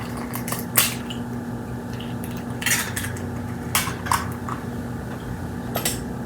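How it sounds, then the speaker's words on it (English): A spoon stirring chicken parmesan sauce in a pot, with a few sharp scraping clinks against the metal and soft wet squishes spaced irregularly over a steady background hum. "I just stirred up my sauce"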